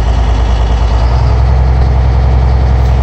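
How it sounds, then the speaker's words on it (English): A truck's engine is held at a slightly raised idle to build air brake pressure during an air brake test, giving a steady, close, heavy rumble that runs unbroken throughout. "you're building up the air pressure by raising up a little bit the engine so that you can build up quicker"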